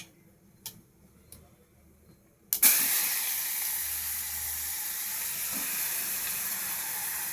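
Onion and tomato hit a hot pan for tomato soup, bursting into a loud, steady sizzle after a few faint clicks, and the frying hiss continues evenly to the end.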